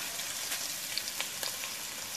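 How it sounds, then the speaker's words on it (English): Hamburger steak patties sizzle in a hot pan, a steady close-up crackle with scattered sharp pops, no voices. "I'm just going to go ahead and start putting these patties in the pan"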